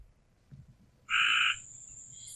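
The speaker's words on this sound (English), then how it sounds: "You need to kill that frog, man." A frog gives one loud, close croak lasting about half a second, followed by a thinner high trill against quiet background noise.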